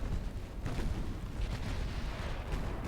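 Naval gunfire in Ultimate Admiral Dreadnoughts, a British 1900 campaign battle with battleships and battlecruisers: dense, continuous rumbling booms and distant artillery rolling together without clear gaps, loud and heavy in the low end, no voices.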